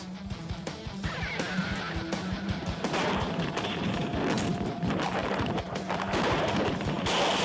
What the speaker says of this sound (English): Shots fired, please.